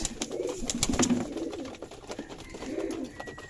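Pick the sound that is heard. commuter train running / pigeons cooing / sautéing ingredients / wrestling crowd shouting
pigeons cooing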